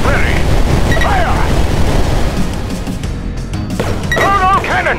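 Battleship cannon fire and explosions in the 9-Bit Armies strategy video game, loud booming blasts and rumbling crashes packed close together throughout, with chirpy synthetic effects layered over them.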